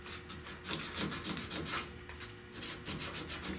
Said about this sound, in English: I'm gonna hand sand this